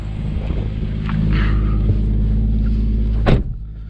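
BMW M140i idling through a cold start, a steady low engine drone heard from nearby, with a brief sharp mechanical sound near the end.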